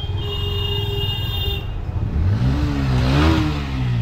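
A motorbike ridden by a schoolgirl without a helmet passes on a road at the Padmapukur crossing near Magrahat, its engine rising in pitch and loudness as it nears, revving close by after a softer stretch of road noise with a faint whine.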